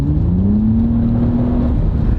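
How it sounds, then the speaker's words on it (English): A smooth-shifting Toyota Camry engine heard from inside the cabin gives a low, steady throb, moderately loud and close, with a gentle rising tone as it pulls. "a nice little throb that shows you're in a fun car to drive."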